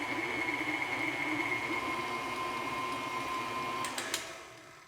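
Electric mixer creaming peanut butter and jelly cookie dough on low speed, a steady close motor whine with a constant tone that runs unbroken, then a few clattering knocks near the end.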